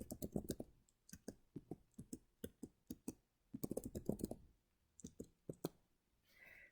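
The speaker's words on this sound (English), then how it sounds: "go ahead and start typing your table names" Keystrokes on a computer keyboard as table names are typed for DIY wedding table numbers, coming in quick bursts of clicks with short pauses between them, close and fairly quiet, with no talking.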